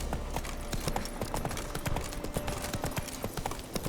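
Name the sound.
horse Roach galloping in video game The Witcher 3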